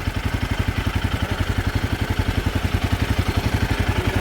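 A motorcycle engine runs at a steady idle, close and loud, with an even rapid thumping pulse and a mechanical clatter, parked by a tent at an overnight camp.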